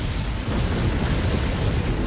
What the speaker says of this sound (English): Launch the cannon!